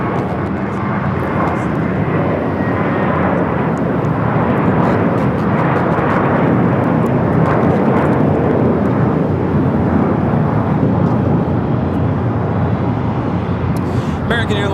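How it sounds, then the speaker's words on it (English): An American Airlines Airbus A321 takes off at Los Angeles airport, a loud, broad, sustained engine roar that holds steady throughout, with faint voices in the background. "American Airlines Flight 4 taking off to JFK on the A321"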